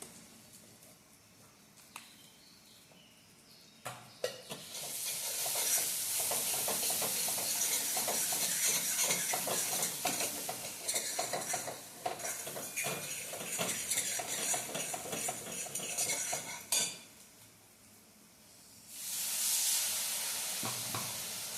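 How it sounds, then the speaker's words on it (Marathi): Spiced jackfruit mixture sizzles and is stirred in a kadhai (wok), with steady frying hiss, scraping spatula strokes against the metal and a brief quieter pause before the sizzle swells again near the end. "त्याला परतून घ्यायचं थोडंसं"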